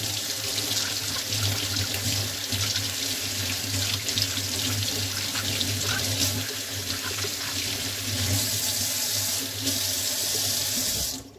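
A kitchen tap runs steadily into a sink while apples are washed under it, a close continuous hiss and splash that stops abruptly at the end, with no talking.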